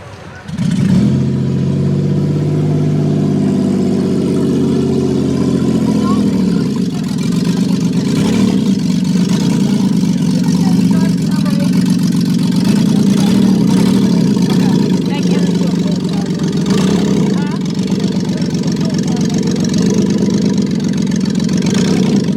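Engines of compact cars in a demolition derby heat at the Jay County fair rumble and idle loudly, occasionally revving, with someone talking over the steady motor noise throughout.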